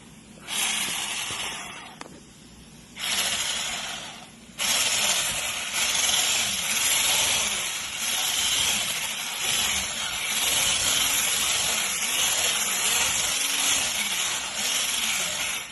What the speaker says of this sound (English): And as always, my handheld mixer. I'm going to whisk this up a little bit.